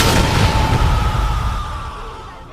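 Big booming grenade blast in the video game Animal Company, loud and close, with a long rumbling tail that fades over a couple of seconds.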